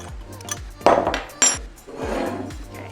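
A spoon clinks and scrapes against a container while stirring a brine of hot water, sugar and salt, giving a few sharp close knocks followed by swirling scraping.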